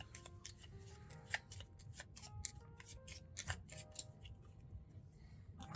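Playing cards from a board game riffle and slide against each other in quick, dry flicks and rustles, close up and quiet, with small taps.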